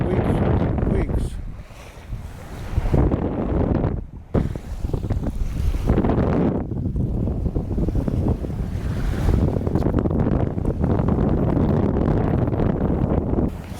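Strong wind buffets a sailboat off Southern California in spring, a loud continuous rush with surging gusts and wave wash, heard alone with no talk.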